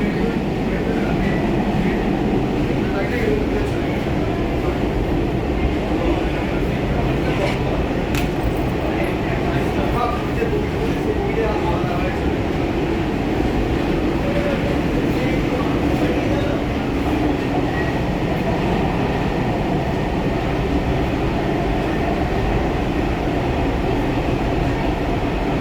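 A Kolkata metro train on the new Behala Taratala to Joka line rumbles loudly and steadily throughout, with rail clatter and occasional clicks, close and continuous.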